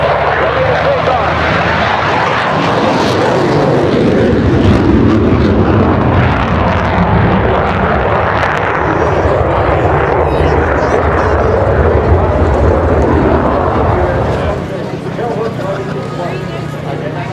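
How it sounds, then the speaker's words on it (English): F-18 Hornet jet roaring loudly at an air show, a continuous broad engine rumble that holds steady then eases slightly near the end, with a public-address voice talking over it. "the F-18 Hornet plants itself on the imaginary deck of the aircraft carrier"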